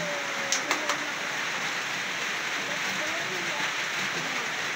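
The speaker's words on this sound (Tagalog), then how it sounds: "So hindi pa po talaga umuhupa yung ulan" Steady rain patters in the background, a soft constant hiss with a few sharper ticks near the start.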